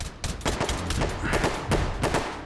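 Dense, rapid gunfire from the VR shooter Hot Dogs, Horseshoes & Hand Grenades, loud and close, a near-continuous fusillade of overlapping shots and bursts with no pause.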